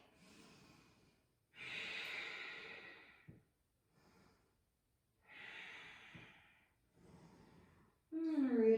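Deep breaths drawn and released during a seated yoga bind, several slow breathy inhales and exhales separated by pauses, fairly close, with a brief voiced sound at the end.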